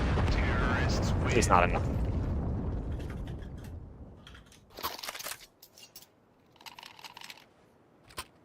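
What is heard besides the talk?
bomb explosion in Counter-Strike 2 video game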